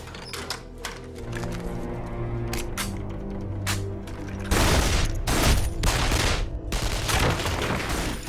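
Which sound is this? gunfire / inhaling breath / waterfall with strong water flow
gunfire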